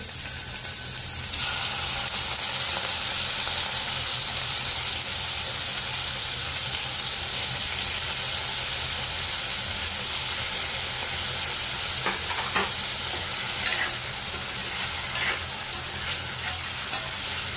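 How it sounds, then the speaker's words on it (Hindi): Paneer shallow frying in hot oil and butter, a loud, dense, steady sizzle with occasional stirring scrapes running throughout, close up and without talk. "यावरती थोडंसं शालो फ्राय करून घ्यायचं आहे पनीर।"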